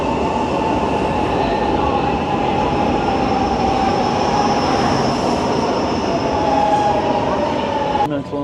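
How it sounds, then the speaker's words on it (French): Milan's M2 metro train rumbles steadily from inside a moving car, with a loud continuous roar of wheels on rails and a brief squeal near the end. "Première expérience dans le métro de Milan, le métro M2 à Milan."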